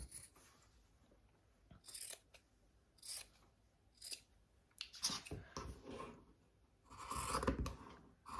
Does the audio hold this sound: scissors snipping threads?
yes